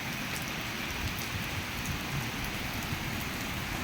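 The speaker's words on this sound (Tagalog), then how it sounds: "Grabe yung ulan." Heavy rain pours down in Japan, a dense, even, continuous roar of drops with no gaps and no voices.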